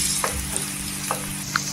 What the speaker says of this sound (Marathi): इथे आपण टोमॅटो टाकायचे, 1 ते 2 टोमॅटो आहे। तेलावर असं परतून घ्यायचं